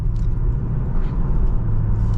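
A BMW M340i or Audi S3 sedan accelerates in eco mode with throttle limited, giving a steady, muted low engine rumble heard from inside the cabin with no distinct shift changes.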